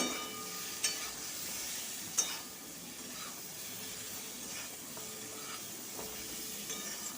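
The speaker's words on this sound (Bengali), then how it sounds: "আমড়াগুলোকে খুব ভালো করে ভেজে নিতে হবে" Hog plums frying in tempered oil for a pickle, a soft continuous sizzle and hiss with occasional scraping clicks of stirring, fairly quiet and close.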